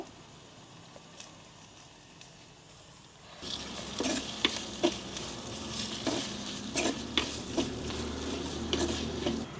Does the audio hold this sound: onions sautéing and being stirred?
yes